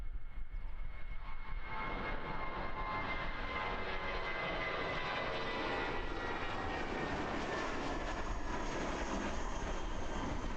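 An Air New Zealand airliner, flight NZ578 to Auckland, takes off from Christchurch Airport: a loud, steady engine roar that builds after a quieter opening and holds broadband and continuous throughout, with no voices.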